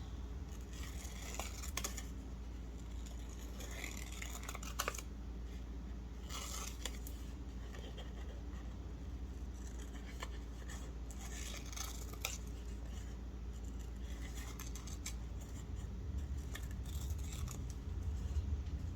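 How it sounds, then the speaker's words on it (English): Scissors snipping paper while cutting ephemera for a Dollar Tree junk journal, a run of close, light crisp cuts over a steady low room hum. "So I'm gonna cut this."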